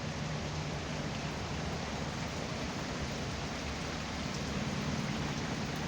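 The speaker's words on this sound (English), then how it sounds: "A lot of rain and stuff going on." A constant downpour of heavy rain in Georgia under a tornado warning, a thick, unbroken wash of falling water striking nearby surfaces, steady throughout and alone.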